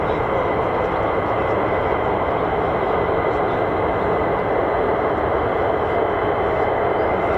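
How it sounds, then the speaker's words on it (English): F-15 fighter jets taxiing at RAF Lakenheath, home of the US Air Force 48th Fighter Wing, give a steady, loud, broadband jet roar that holds unbroken throughout, close by and with no talk over it. "So lots more F-15s will be taxiing."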